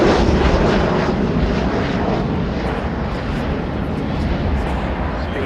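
Olympus jet engines of an Avro Vulcan bomber roar loudly and continuously, a dense broadband blast that stays steady throughout with no pauses.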